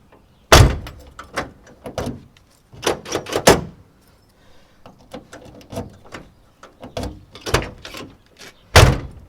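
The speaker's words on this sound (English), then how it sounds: "All right, so we'll lock the door." Door locks on a 1977 Buick Century clacking and thumping in a series of sharp, close mechanical clunks, some in quick pairs, separated by quiet pauses with no talking.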